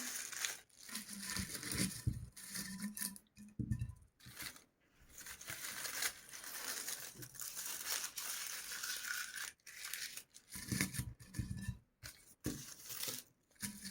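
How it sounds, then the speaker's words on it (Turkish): Pieces of paper crumple and rustle as they are pushed into a bottle, in irregular bursts of close crinkling with short pauses between handfuls. "kağıt parçalarını şöyle dolduruyorum içine şişemin"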